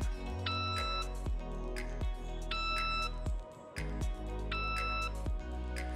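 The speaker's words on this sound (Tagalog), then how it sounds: "So, once nag-beep na po siya" A surveying device gives three pairs of electronic beeps at steady intervals during a field stake-out, each a short two-tone chime over a low background hum, fairly clear and close.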